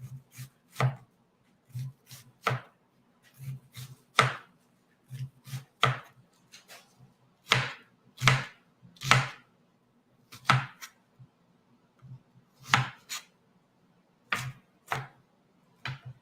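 Onions being chopped on a cutting board for Thanksgiving cooking, a steady run of crisp, close knife strikes in irregular bursts with brief pauses, heard alone.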